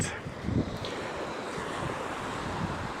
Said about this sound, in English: I'm trying to block the wind out a little bit so you can hear me. Wow, that's breezy.